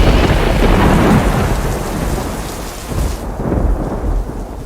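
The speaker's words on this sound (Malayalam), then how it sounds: "ഇടിവെട്ടി പെയ്യുന്ന ഈ മഴ" A loud thunderstorm with heavy rain pouring down, a deep rumble of thunder rolling under a thick, steady wash of rain that stays close and constant.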